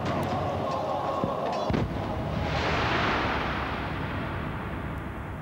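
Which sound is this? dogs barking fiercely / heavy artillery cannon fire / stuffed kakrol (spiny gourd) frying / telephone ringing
heavy artillery cannon fire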